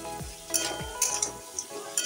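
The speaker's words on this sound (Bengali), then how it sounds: "পনিরগুলো দিয়ে আমি ভালো করে নেড়ে চেড়ে নিচ্ছি" Paneer being stirred in chilli sauce in a hot pan: a soft sizzle runs under repeated scraping strokes of a spoon against the metal, with a few light clinks, close and fairly quiet.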